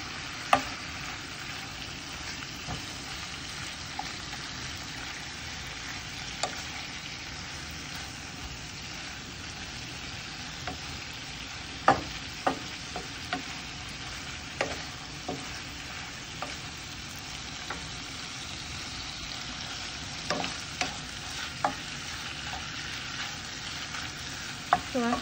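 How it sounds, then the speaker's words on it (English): Salmon fish stir fried in a pan, a steady sizzling hiss running throughout with scattered scraping clicks and taps of stirring, close and even in level, no voices. "So I stir fry fish first, and then add a little vegetable inside."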